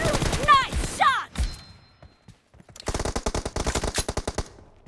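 Rapid automatic gunfire rattles in bursts during a team deathmatch in a shooter video game, with close, punchy shots near the end after a pause and a voice speaking over the opening moments.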